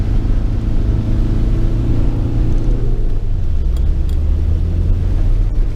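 A vehicle engine roars loudly and close, holding high revs and then dropping to a deeper rumble.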